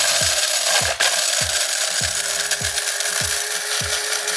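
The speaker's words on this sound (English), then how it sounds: "that grind up the pimento nice and fine" An electric spice grinder whirs loudly and steadily while grinding pimento for a jerk turkey seasoning, with a regular low thumping pulse repeating about every half second beneath the motor noise.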